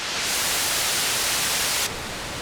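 Steady, loud hiss of white noise from an Intellijel Cascadia synthesizer fills the clip, then drops slightly in brightness near the end as the tone shifts.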